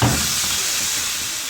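Marinated chicken tikka cooking on high heat, giving a loud, steady sizzling hiss that runs unbroken and close up, with no one talking.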